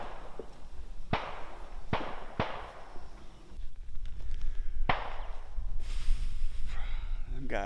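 Gunshots crack from people shooting near a ranch, several sharp isolated reports spaced apart over a steady outdoor background, fairly close, with someone talking over parts of it.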